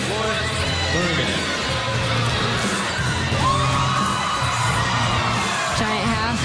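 Arena crowd at a Big Ten women's gymnastics championship cheers loudly and continuously for a bars routine, with shrill whoops and whistles. Commentators talk over the roar.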